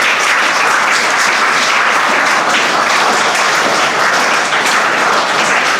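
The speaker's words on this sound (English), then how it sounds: "give her a huge round of applause" Steady, dense applause from an audience at a school youth outreach event fills the room, continuous clapping without a break and no voices over it.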